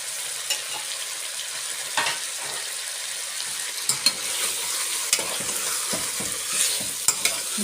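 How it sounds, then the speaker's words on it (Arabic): Tomato and vegetables sauté in a pot, giving a steady, close sizzle and crackle with scattered sharp pops and stirring scrapes throughout, and no voices. "نسيبهم يتشوحوا شويه"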